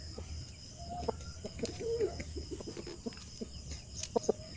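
Backyard hens around a sturdy egg-laying coop, clucking in scattered, irregular bursts at moderate distance over a soft background hum.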